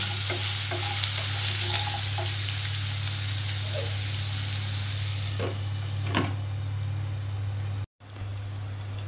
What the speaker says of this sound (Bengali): এবারে আমি আলু আর ওলটাকে একটু ঢাকা দিয়ে ভালো করে একটু কষে নেব।